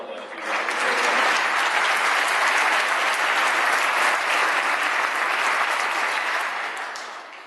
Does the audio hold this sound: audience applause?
yes